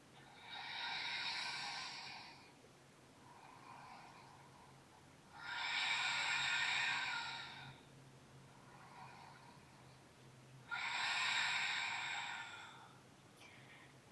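Three long, slow, deep breaths are drawn in and released in a calm yoga pose, each one a soft airy rush close up, with quiet pauses between them.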